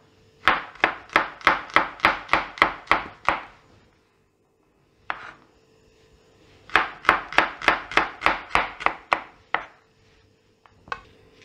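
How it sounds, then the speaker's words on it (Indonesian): A knife chops spice ingredients for a spicy beef dish on a cutting board in two rapid runs of about ten even, sharp strikes each, separated by a pause with a single knock, then a few scattered taps at the end. "nanti saya mau potong-potong dulu bahan-bahan yang dihaluskan"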